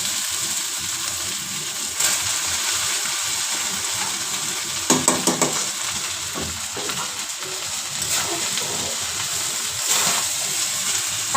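Rice and chicken sizzle in a pan for fried rice while a utensil stirs and scrapes through them, a constant close frying hiss broken by several louder clattering stirs.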